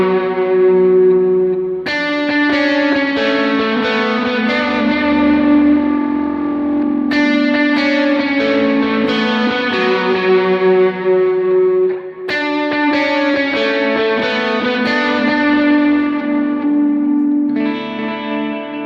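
Electric guitar played through an HX Stomp effects unit into a Jet Micro amp, ringing chords with chorus, echo and reverb sustaining loudly over about nineteen seconds, no voices.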